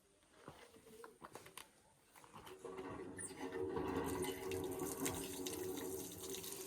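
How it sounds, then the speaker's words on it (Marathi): Water pours from an old repaired village borewell, starting as scattered faint drips and splashes, then swelling into a steady, moderately close gushing flow that lasts to the end, with no talk. "तर म्हणजे बघू शकतात का अजून पण पाणी येतं"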